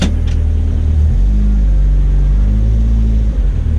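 A Ford ST170 car drives around the block, its engine rumbling low and loud and steady close by, with a brief rise in revs partway through and no talking.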